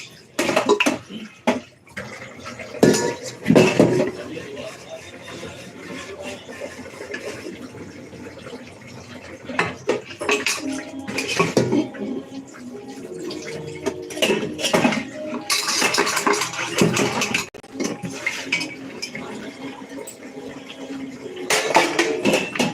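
Many dishes, pots and utensils being washed by hand in a home kitchen, with clinking metal and ceramic, bursts of running tap water and scattered clatter continuing throughout at close range.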